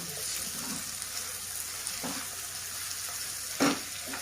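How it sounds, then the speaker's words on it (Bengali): Chopped tomatoes fry with onions in a pan, giving a continuous close sizzle broken by soft stirring scrapes and a sharper clink near the end, with no talking. "এবার দিয়ে দিচ্ছি কেটে রাখা টমেটো কুচি।"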